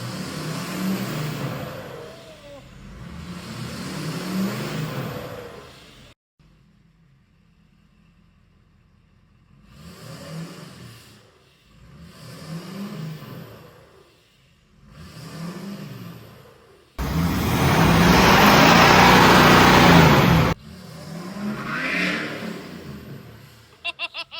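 A tuned, high-mileage Ford F-350 Powerstroke diesel truck with a new exhaust revs in a series of repeated swells between lulls, with one long, loud blast near the end, close and with no talking.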